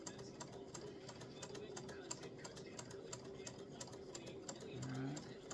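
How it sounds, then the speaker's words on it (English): A sewing machine stitches quilt blocks together along a center line, giving a fast, steady, even mechanical pulse throughout while a person talks over it. "So I'm sewing on my center line, and the outside of my foot is right along the edge."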